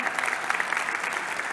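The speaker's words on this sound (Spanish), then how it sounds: "Un fuerte aplauso nuevamente." Audience applause at an opening ceremony, a dense steady wash of many hands clapping throughout, moderately loud and without talk.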